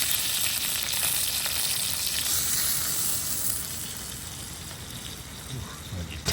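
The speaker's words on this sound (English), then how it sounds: "Put our strips of bacon on there." Strips of bacon fry on a campsite grill at Whitney Portal, giving a steady, close sizzle and crackle that holds throughout with slight swells.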